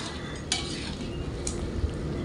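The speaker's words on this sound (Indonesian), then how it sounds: "Dan setelah itu diaduk-aduk biar bumbunya ini merata." Sweet soy sauce being stirred into chicken rica-rica spice paste in a pan, a continuous soft scraping and sizzling texture with a couple of light utensil clicks against the pan; no voices.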